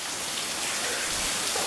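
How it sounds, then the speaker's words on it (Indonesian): Heavy rain pours down in a dense, continuous hiss, loud and steady throughout with no other sounds standing out. "suara ini udah hujan udah makin kencang, Bang Hadi."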